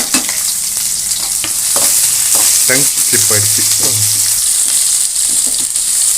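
Shallots, green chillies and curry leaves sauté in hot oil with a loud, continuous crackling sizzle, while a spoon scrapes and stirs through the pan.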